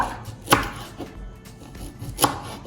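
A knife chops native ivy gourd (dondakaya) into pieces on a board for Guntur-style spicy curry, giving three distinct, sharp cuts spaced apart, close and alone with no talk.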